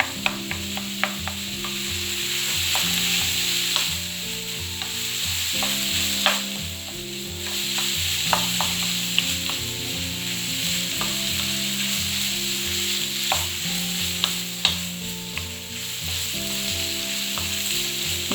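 Eggs fry and are stirred in a pan for bacon and egg fried rice, giving a loud, continuous sizzle with repeated scraping strokes and light utensil taps from start to finish.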